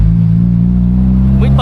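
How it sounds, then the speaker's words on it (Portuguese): Loud, steady low exhaust drone from a 1991 Saturn SL2 while driving, heard close up from inside the car, with a voice cutting in briefly at the end. "O escape vocês estão ouvindo, né? O escape tem um ronco estridente."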